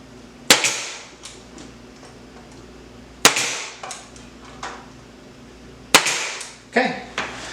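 A staple gun fastens hardware cloth onto a wooden candy board for a beehive, firing three sharp, loud snaps a few seconds apart, with lighter taps and handling noise between them.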